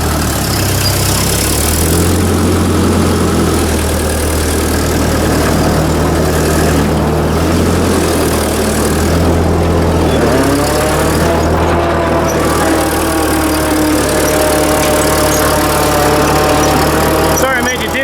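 A cold old engine runs loudly just after starting, with a steady low idle drone and a pitch that wavers and rises partway through. Talk comes and goes over it.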